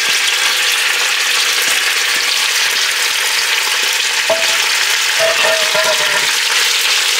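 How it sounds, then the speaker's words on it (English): Bacon frying in olive oil in a hot pan gives a dense, constant crackling sizzle, loud and close, with a few brief clinks of a utensil near the end. "We got a little olive oil in the bottom of there. We're gonna drop some bacon in."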